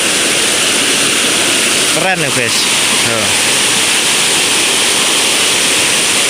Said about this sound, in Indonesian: Ini sudah mulai surut sungainya